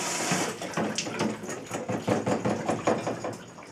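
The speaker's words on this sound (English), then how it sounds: "I can just keep the faucet on, and as this fills, the hose takes it down into my container" Water from a running faucet fills a pitcher and splashes through a jiggler siphon hose, a close, loud rushing with uneven rhythmic surges as the hose is shaken.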